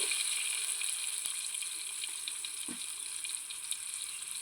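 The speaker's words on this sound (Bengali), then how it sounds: "ভালো করে ভেজে নেব।" Cut potatoes frying in a pan for a fish, potato and brinjal curry, giving a constant high hiss of sizzling oil with a few sharp ticks and clinks, fairly quiet and steady.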